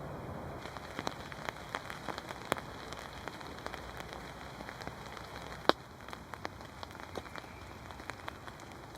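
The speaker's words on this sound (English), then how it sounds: "it's been raining. No leaks in this tent yet at all." Heavy rain drumming on a hot tent during solo camping in miserable weather, a dense continuous patter with sharper individual drops ticking through, steady and close, no voices.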